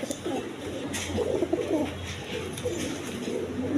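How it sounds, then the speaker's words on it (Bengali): A pair of red Jacobin pigeons in a farm cage coos steadily at close range in low, throaty rolling phrases that repeat over a few seconds, with a low background hum. "দেখেন দশমিদা এখানে এক পেয়ার জ্যাকোবিন কবুতর আছে, রেড কালার"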